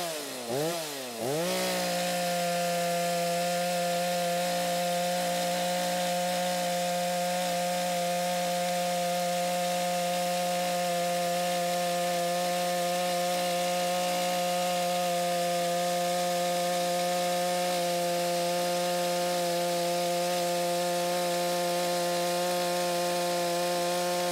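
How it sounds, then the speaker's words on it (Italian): A chainsaw with a dull, worn chain cuts wood and runs up to a steady high whine after a brief revving start, then holds a loud, continuous drone close by for the whole stretch. "ok taglio stortissimo e questo è un sintomo che la catena non è ben affilata"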